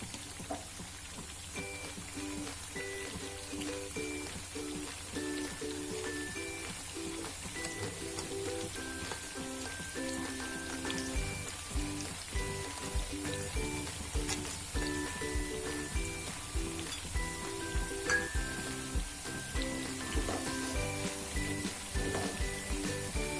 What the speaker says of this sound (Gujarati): એટલે આપણે ફ્રાય કરવાના છે